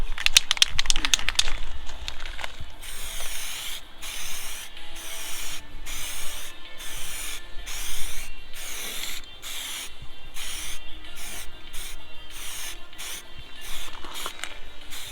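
P38 body filler is skimmed across an Audi TT panel with a spreader, producing a continuous rhythmic scraping of close strokes that repeat steadily throughout.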